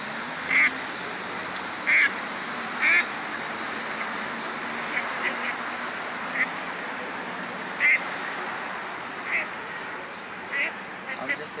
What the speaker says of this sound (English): This is the official duck fights. These ducks are going in.